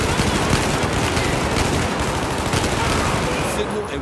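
Dense, sustained automatic gunfire from a Battlefield 4 campaign mission, loud and continuous with overlapping bursts throughout, under faint game voices.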